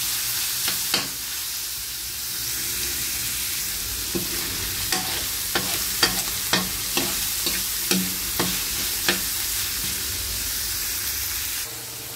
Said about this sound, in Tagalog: Gisa-gisa lang po natin hanggang sa mag-brown yung karne.